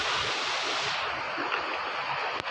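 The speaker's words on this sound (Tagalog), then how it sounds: "May waterfalls." A forest waterfall produces a steady broadband rush of falling water close by. The roar continues without a break and becomes slightly softer partway through.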